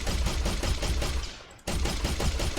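Rapid automatic gunfire from a weapon in an Unreal Engine 4 game test, a dense burst of shots that breaks off for a moment and then resumes, loud and close with no voices.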